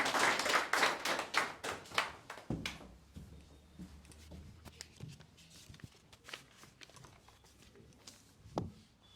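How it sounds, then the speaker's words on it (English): Scattered audience clapping at a group discussion and debate, loud at first and then fading into sparse individual claps, with footsteps as the next speaker walks up. "Please put your hands together and invite him"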